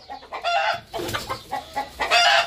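About ten chickens cluck in a busy, close-range farmyard chorus, with overlapping short calls in irregular bursts across the whole stretch and no talking.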